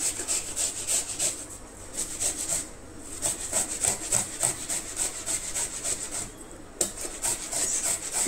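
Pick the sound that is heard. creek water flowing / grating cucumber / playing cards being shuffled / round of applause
grating cucumber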